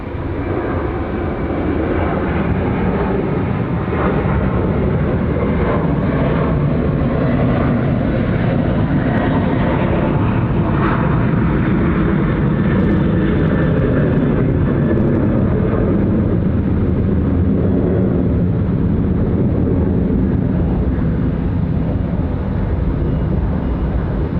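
A Qantas airliner bound for Tokyo takes off from Sydney Airport, its powerful jet engine roar loud and continuous, swelling and shifting in tone before easing slightly toward the end.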